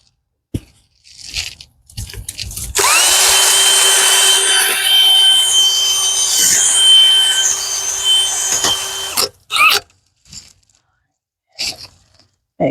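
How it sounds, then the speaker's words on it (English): A power auger drills into garden soil for planting begonia and alyssum, a steady whining motor with grinding texture running for about six seconds, loud and close, with brief rustles and handling sounds before and after. "Working with an auger that's too small for what I'm doing."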